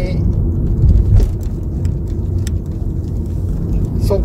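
Inside a Nissan Leaf electric car climbing uphill over a mountain pass, a loud, steady low road and tyre rumble fills the cabin with only faint higher noises above it.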